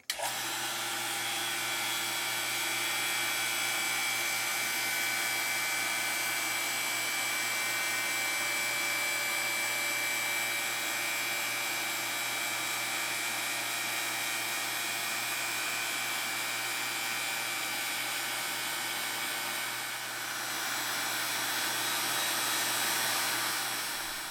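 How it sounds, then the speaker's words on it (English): A vacuum pump runs steadily throughout, a loud, constant mechanical whir and hum with no pauses and no voices. "that vacuum pump was making so much noise"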